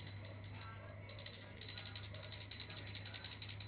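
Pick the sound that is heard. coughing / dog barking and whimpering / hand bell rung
hand bell rung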